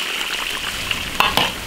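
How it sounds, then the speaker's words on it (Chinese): Eggplant deep-fries in oil in an iron wok, a continuous close hiss of bubbling oil with a few sharp crackles and pops toward the end. "把茄子下锅炸一下"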